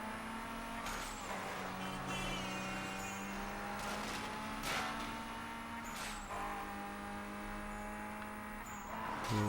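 Tires skidding and squealing under the handbrake in the Xbox 360 racing game Need For Speed Most Wanted, several sharp squeals over a steady engine drone with a few bursts of revving.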